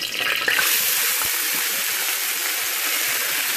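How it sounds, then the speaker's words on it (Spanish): Raw rice pours into hot oil in a pan and bursts into a loud, close, continuous sizzling hiss that stays steady to the end. "Voy a ponerle el arroz."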